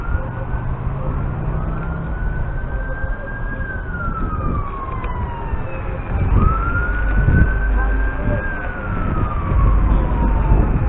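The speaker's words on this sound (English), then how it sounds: "Ambulance coming." An ambulance siren wails in long rising and falling sweeps over passing road traffic, heard from an electric scooter, moderately close, its tone gliding up and down twice.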